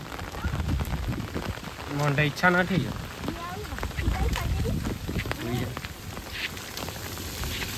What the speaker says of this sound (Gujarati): વરસાદ થોડો ઓછો છે